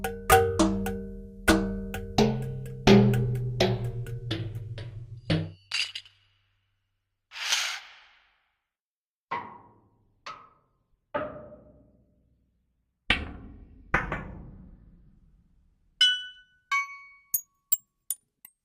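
Sampled metal impacts from a Soundiron percussion library, including cans, magnetic balls and steel pipes. Ringing clanks and bright clinks come one by one, first in a quick tuned run, then as isolated hits separated by silence.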